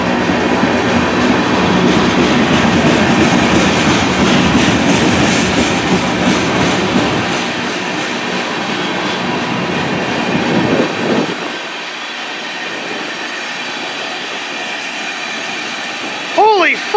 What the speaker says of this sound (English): must be another train coming from somewhere.